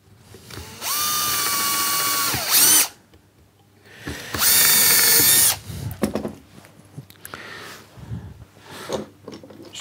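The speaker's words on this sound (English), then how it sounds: "Pilot drill again. Just extending it a little bit." Power drill boring a pilot hole into wood while building a wooden boot rack: two loud, steady whining bursts of a couple of seconds each, separated by quieter handling clatter.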